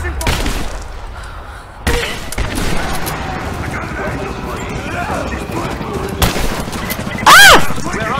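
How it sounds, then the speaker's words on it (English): Gunfire in a video game firefight: a few loud broadband shot cracks early on and a sharp blast near the end, over continuous game noise with voices talking throughout. "Shotgun!"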